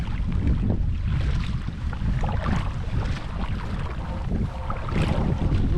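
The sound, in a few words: wind on the lake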